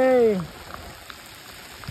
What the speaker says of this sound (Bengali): পুরো বৃষ্টি চলছে